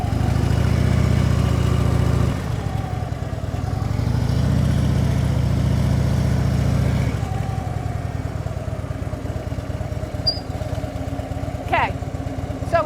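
Motorcycle engine idling and revving lightly during slow U-turn practice, a steady low rumble that swells and settles as the clutch slips in the friction zone, with a brief squeak near the end.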